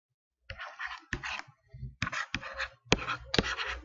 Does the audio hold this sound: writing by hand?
yes